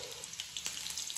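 Tempering seeds with green chillies sizzle in hot oil, a faint, close crackle with scattered sharp pops and spits throughout, no voices.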